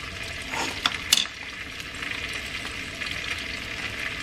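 Head-on shrimp frying in oil for Mexican-style crispy fried shrimp, a soft steady crackling sizzle with a few sharp pops and clinks early on, nearby, no talk.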